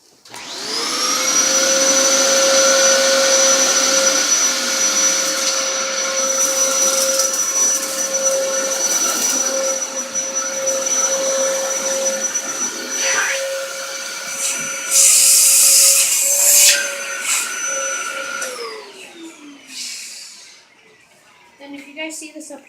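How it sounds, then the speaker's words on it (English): A Dyson vacuum cleaner runs at close range with a loud, steady motor whine and strong tonal hum, pitch shifting slightly as it works, then winding down and cutting off near the end; no talking over it. "So do you guys want to see me vacuuming?"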